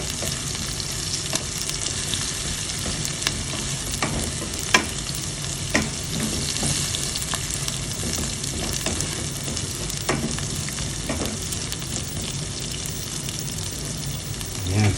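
Onion and chili frying in a pan give a continuous loud sizzle, broken by occasional sharp clicks of a spatula stirring against the metal. There is no talking.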